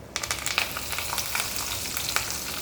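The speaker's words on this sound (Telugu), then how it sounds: "వేగింది దీంట్లో కరేపాకు వేద్దాం" Curry leaves crackling in hot oil in a pan with fried tomatoes for tomato rasam, a dense, bright sizzle with sharp pops, close and steady with no voices.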